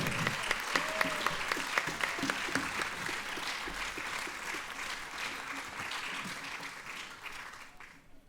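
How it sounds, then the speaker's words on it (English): Audience applause for the sound engineer at a RojoTango Orchestra concert during the Bled summer festival: a dense, steady crowd clapping that holds evenly for several seconds, then tapers off at the end. "Big applause please for the sound engineer Peter."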